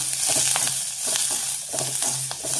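Onions fry in oil for medu vada, a close steady sizzle broken by repeated stirring scrapes in the pan over a faint low hum.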